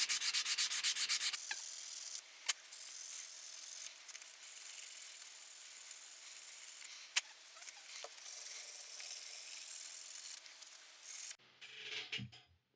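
Brass is sanded by hand with 400 grit sandpaper, giving a close, continuous hissing rub with brief breaks and strokes, ending in a few quieter handling noises, with no talk.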